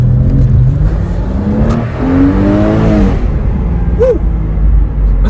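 Porsche Boxster S engine revving hard on the road, a loud rising and falling roar with sharp gear-change swings, heard from close by inside the car.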